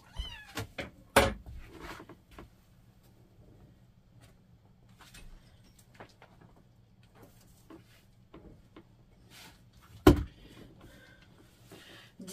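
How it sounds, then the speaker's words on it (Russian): A small kitten meows several times indoors at home, with thin, high calls scattered across the stretch and a couple of sharp knocks or bumps in a quiet room. "Я приехала с Крыма и обнаружила дома вот такого котенка."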